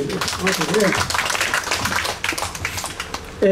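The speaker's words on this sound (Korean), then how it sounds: "박수 한번 보내주십시오." Crowd at an outdoor protest rally in Busan clapping together, a steady patter of many hands spread across the moment, with someone speaking over it.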